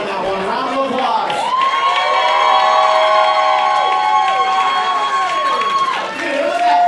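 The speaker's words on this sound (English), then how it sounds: "round of applause." Loud, sustained crowd cheering at a Denver comedy roast battle, with long whooping shouts and hollering voices layered over light clapping, fading briefly before swelling again near the end.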